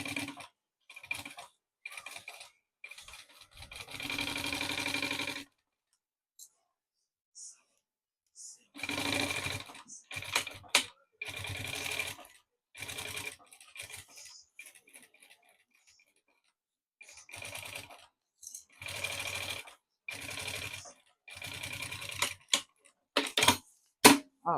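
A sewing machine stitches around the edge of a zippered maternity organizer pouch in repeated short bursts of rapid mechanical whirring, broken by pauses, loud and close.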